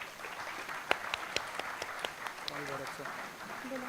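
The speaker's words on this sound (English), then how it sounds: "Give a big round of applause for him." Audience applause welcoming KPMG India's Digital Transformation Head on stage at an entrepreneurship event, a steady spread of clapping with a few sharper claps standing out and voices talking over the latter part.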